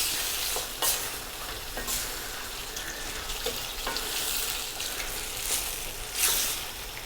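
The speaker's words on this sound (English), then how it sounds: "We're just going to go for 2 minutes, getting that sauce onto the pasta" Pasta being stirred through a spicy anchovy, chili and tomato sauce in a pan, with a steady sizzle under repeated scraping, clattering strokes of a utensil against the pan, close and busy.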